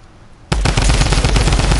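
Loud rapid automatic gunfire in Fortnite erupts suddenly after a quiet moment and continues as a sustained close burst of shots.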